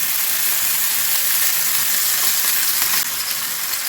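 Easter treats frying in oil, with butter mixed in, make a loud dense sizzle that stays nearly even from start to finish, heard up close with no talking.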